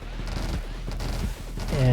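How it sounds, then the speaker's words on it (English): Rapid gunfire from a spinning character in the video game 20 Minutes Till Dawn, a dense stream of repeated shots over background game music, with a voice speaking over it. "So every time I click the right click, she spins around and starts shooting"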